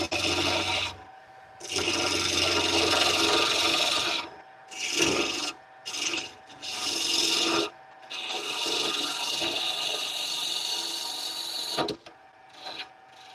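Wood being turned on a lathe with a bowl gouge, shaping a wooden bowl: a close, steady rasping scrape in long passes broken by short pauses, alone without talk.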